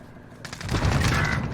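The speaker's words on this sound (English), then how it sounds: "I hear them fighting and shooting" A burst of rapid gunfire comes from enemies fighting in the Call of Duty: Warzone video game. The shots start after a brief quiet and build into a dense, loud volley.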